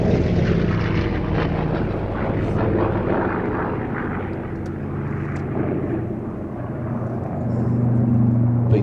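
A B-25 bomber's propeller engines drone loud and steady as it passes over an air festival, the roar swelling and easing slightly without a break.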